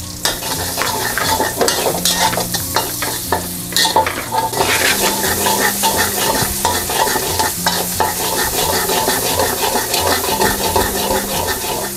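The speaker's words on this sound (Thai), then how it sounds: "เดี๋ยวเราจะเจียวกระเทียมให้หอมก่อนค่ะ" Minced garlic sizzles in oil in a pan, a loud, close, continuous frying hiss with regular scraping and stirring clatter throughout.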